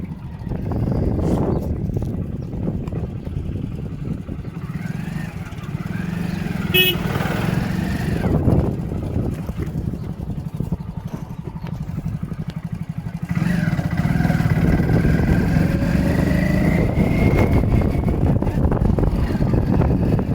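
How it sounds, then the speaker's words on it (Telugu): A low engine rumble grows steadily louder over rushing wind, like a heavy tractor motor drawing closer, with a brief honk partway through. "ముంగట ట్రాక్టర్ వస్తుందని సౌండ్ వచ్చింది"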